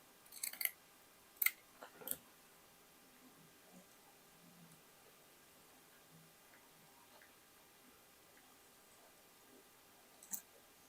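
Scissors cutting denim fabric, heard as a few faint, crisp snips in close succession near the start and another near the end, with a quiet room between them.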